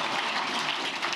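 Audience applause at a public speech to civil servants, a steady dense wash of clapping filling the whole moment with no voices over it.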